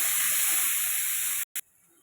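Onions and a long-sliced tomato sizzle in a pan for a curry, a steady loud hiss and spatter that cuts off abruptly, with a brief burst before dropping to quiet.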